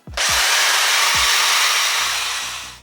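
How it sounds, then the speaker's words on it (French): A Bosch power drill spins a steel-wool pad against the chrome parts of a moped being restored, giving a loud, steady whirring grind for nearly three seconds. A few low knocks come at the start and the noise eases slightly at the end. "J'ai pris une perceuse, une Bosch. J'ai mis de la paille de fer au bout."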